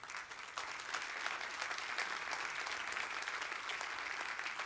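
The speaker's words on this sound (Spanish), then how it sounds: "En una iglesia normal aplauden." A church congregation applauds steadily, dense clapping filling the room at a moderate distance and holding an even level throughout.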